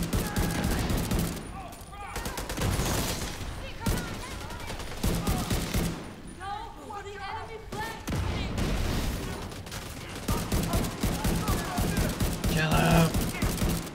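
Rapid bursts of gunfire from the video game The Division 2, loud and repeated in volleys throughout, with voices talking over the shooting.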